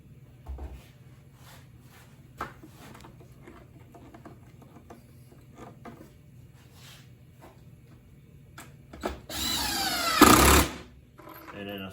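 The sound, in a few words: screws being driven into cypress bee box wood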